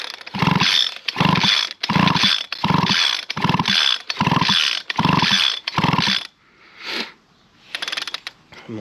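A 2013 ECHO SRM-350ES brushcutter is pull-started again and again, six loud, rhythmic rasping cord pulls close up, then a pause and a couple of weaker tugs; no engine catches.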